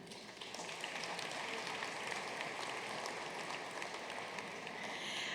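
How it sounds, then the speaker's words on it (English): A crowd applauds a volunteer team at an alumni gala, the clapping a steady, fairly distant wash of dense claps that keeps an even level throughout without voices standing out. "a round of applause for that entire team"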